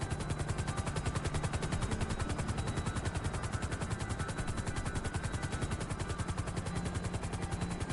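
A helicopter in GTA Online produces a steady, loud, rapidly pulsing rotor chop that runs without a break, with no separate gunshots standing out above it.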